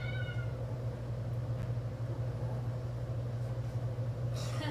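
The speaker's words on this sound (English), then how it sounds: "Is there a kitty? I see a kitty." A cat meows a few times at the start, with a steady low hum running underneath throughout.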